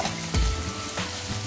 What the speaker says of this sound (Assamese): এতিয়া এই গোটেই মাটনখিনি কুক হ'ব, এইখিনি অকণমান দেরি ফ্রাই কৰিব।